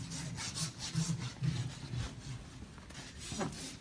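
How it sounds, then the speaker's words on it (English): A farrier trims a horse's hooves with steady rasping, scraping strokes, close and moderately loud in a regular rhythm, with a brief higher scrape near the end. "trimming off the excess hooves the same way we trim our finger and toenails."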